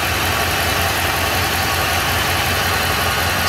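A car engine idles after an oil-related install, a steady, even rumble with a low throbbing pulse, heard close and continuous throughout.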